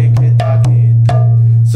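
Mridanga drum strokes in a lesson setting, a steady low resonant drone under four or five sharp struck hits with ringing tones, played close and loud.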